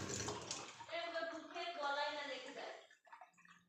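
Tap water runs into a tub in a home setting, a steady splashing flow heard close up beneath a child's and an adult's overlapping voices, fading out near the end.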